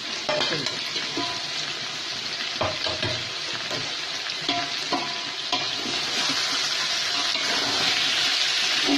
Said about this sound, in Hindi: चिकन हमारी अच्छी तरह से तल गई है। अब इसमें डालेंगे हम टमाटर और हरी मिर्ची।